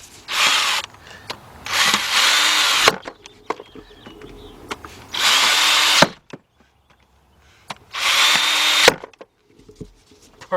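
A power tool drives bolts tight on a 2005 Nissan Pathfinder with a 4.0 engine: three loud, close bursts of whirring, each a couple of seconds long, separated by quiet gaps with small clicks and clanks.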